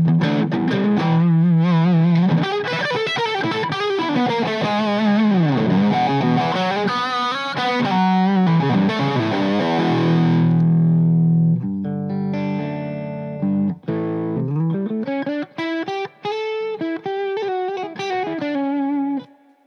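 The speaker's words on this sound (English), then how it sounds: "Dominic says Greenback sounds like Led Zeppelin" Distorted electric guitar played through a Celestion Greenback speaker, heard alone as loud, continuous crunchy riffing with sustained chords. The notes turn cleaner and more separated partway through, then the riffing resumes.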